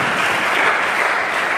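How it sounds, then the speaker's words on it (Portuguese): A church congregation claps loudly and continuously, dense applause that holds at a steady level for the whole moment. "Dê uma salva de palmas para Jesus."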